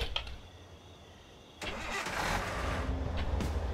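A car engine turns over and catches in the video game Thief Simulator, a brief crank-like start followed by a steady loud mid-range rumble that continues to the end.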